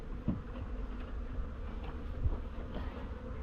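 A swarm of honey bees buzzes in a dense, continuous drone during a hive removal, close and steady, with handling noises from boxes and frames underneath.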